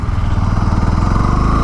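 A Bajaj Pulsar NS 160 motorcycle engine runs steadily and loudly up close, with a continuous mid-pitched throb as the bike rides and brakes.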